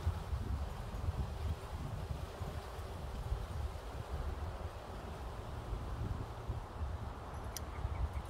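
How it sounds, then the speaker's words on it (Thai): Steady wind blowing through a sunny backyard garden, a continuous low rumbling rush with rustling and microphone buffeting throughout, no speech. "แดดออกลมเย็นเบิ่งฟังเสียงลมพัดสักก่อนเด้อจ้ะเด้อ"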